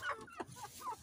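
Roosters and chickens that peck at seeds give a few short, soft clucks, faint and close together.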